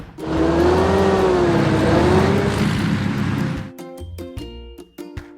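Cartoon car engine revving in a children's construction building game, a loud whining motor with rising and falling pitch for several seconds, then cutting off into short electronic game chimes and beeps.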